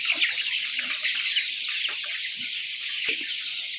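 Brown cock chickens being raised on a poultry farm cluck and chatter in quick, uneven bursts, several birds close by and loud with no talk over them.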